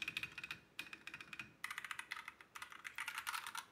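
Rapid typing on a mechanical keyboard fitted with soft linear switches, a quiet, muffled patter of keystrokes in uneven bursts, close up and alone with no voices.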